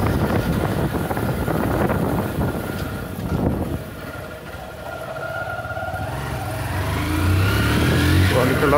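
Motorcycle ridden along a street while its newly repaired brakes are tested, engine and wind noise rushing steadily, dipping as it slows around the middle, then rising again as the bike pulls away.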